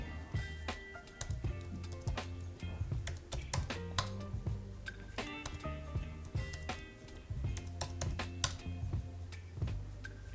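Keys clack on a computer keyboard as a password is entered at a setup prompt, a steady run of close, crisp taps in uneven bursts with a low background hum.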